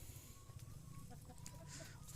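Laying hens on an egg farm cluck softly and intermittently at close range, with a few brief chirps over a steady low hum.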